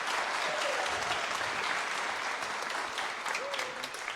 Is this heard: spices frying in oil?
no